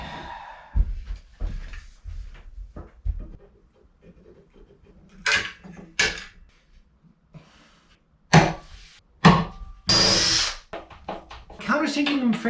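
Power drill countersinking screw holes in wood while building steps for a wooden boat restoration, several short sharp bursts of drilling separated by pauses, with someone talking between them and some knocking and handling noise.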